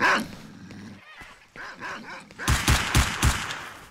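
A pack of dogs barks in the video game STALKER: Shadow of Chernobyl, a scattered run of yips and whimpers building into a fast burst of loud, close barks near the end, with no talk.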